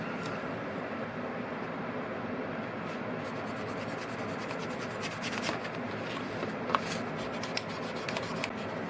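Eyeglass frames are sanded by hand, a continuous dry rubbing and scratching with quick rhythmic strokes at close range and fairly even loudness throughout.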